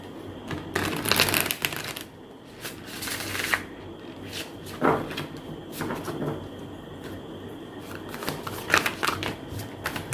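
Tarot cards are shuffled and handled up close during a card reading, with quick riffling bursts, soft slides and taps in an irregular rhythm.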